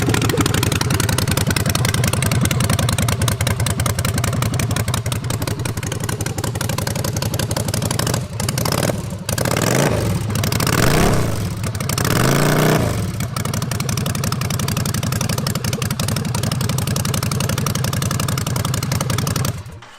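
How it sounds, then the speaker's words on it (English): A Ducati Scrambler Desert Sled motorcycle idles with no exhaust fitted, a loud, raw, continuous engine clatter close by, with a few brief blips of the throttle in the middle before settling back to a steady idle. "wants to hear this bike fire up without an exhaust on it"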